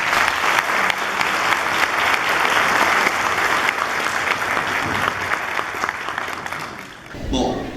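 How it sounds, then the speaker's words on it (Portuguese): Audience at an opening lecture on sustainable sewage treatment plants gives a round of applause, loud continuous clapping filling the room for several seconds before it fades at the end. "Uma salva de palmas."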